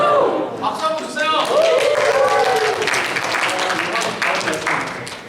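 A youth Bible study group at a church workshop claps for a member, moderate applause running under someone talking throughout.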